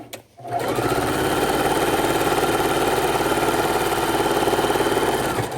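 A sewing machine stitches seams on a scrap quilt made from leftover fabric. After a brief pause it runs at a loud, steady whir with a rapid, even needle pulse, close by and without talk.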